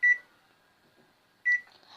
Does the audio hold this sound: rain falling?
no